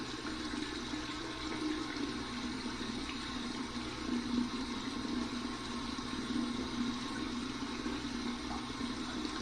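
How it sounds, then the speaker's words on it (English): Cold tap water runs in a steady, continuous rush as a Zeva razor is rinsed under it, a close and unbroken stream with no voices. "Let's run this under the cold water and see what kind of feedback we get."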